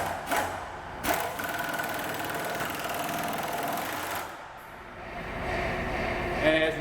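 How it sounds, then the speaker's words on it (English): Impact wrench run at full output, around 860 ft-lb, on a lug stud in a shop, giving a loud sustained mechanical rattling hammer with brief bursts at the start and a dip before it resumes. "if you use the full amount of the impact wrench and let it output its maximum amount of torque, it will snap a lug stud right in half"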